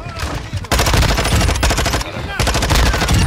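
Rapid automatic gunfire from Call of Duty: Modern Warfare II, loud and continuous in dense bursts with brief breaks, the shots cracking close and sharp throughout.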